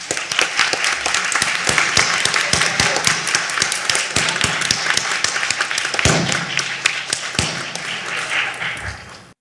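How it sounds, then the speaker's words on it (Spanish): Sustained audience applause at a panel session, a dense wash of many hands clapping fairly loudly and steadily before gradually fading at the end. "creo que para ellas podemos hacer un aplauso"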